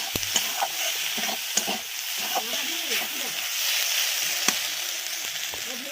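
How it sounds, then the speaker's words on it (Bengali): Shrimp sizzle and fry in a pan while being stirred, with a steady hiss broken by repeated scraping strokes and a few sharp clinks of the utensil against the pan. "এবার চিংড়ি মাছটা দিয়ে দিলাম চিংড়িটা দিয়ে দিলাম ভালো করে নাড়াচাড়া করে নিচ্ছি"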